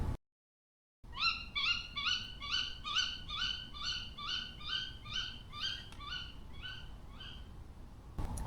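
A female tawny owl calls from the woods at a campsite in a rapid series of repeated rising hoots, a steady rhythmic run of about a dozen calls after a brief silence, clear and moderately near.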